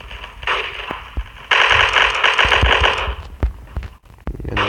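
Rapid automatic gunfire in the blocky shooter game Block Strike, loud, sustained bursts of rattling shots with brief gaps and a sharper burst near the end.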